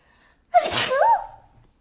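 One loud, abrupt sneeze from a person bursts out after a short silence, with a voiced, pitched tail fading over about a second.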